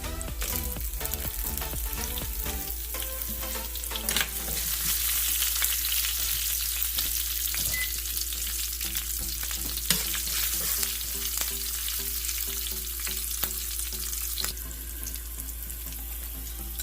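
Asafoetida and green chillies fry in hot oil in a tempering, giving a steady, close sizzle with crackles, accompanied by light scraping and stirring and a low, even hum underneath.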